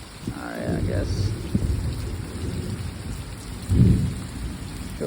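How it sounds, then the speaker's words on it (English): Rain falls outdoors in a steady, dense patter with a low rumbling undertone, while children's voices and play sounds rise briefly over it. "This rain. Pretty awesome."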